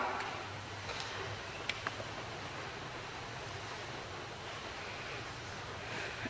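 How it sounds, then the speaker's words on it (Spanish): Rough, stormy sea surf rolling in as a steady, broad wash of noise, with a few faint brief ticks over it and no voices. "El mar embravecido."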